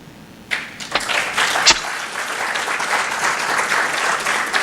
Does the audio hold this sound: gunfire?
no